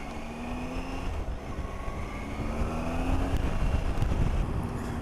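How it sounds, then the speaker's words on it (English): A 2018 Triumph Tiger 800 XRT motorcycle engine runs steadily while riding, its revs rising slightly as the clutch is let out in first gear, with constant wind rush over the rumble. "as soon as you're letting the clutch out in first gear, the revs go up slightly."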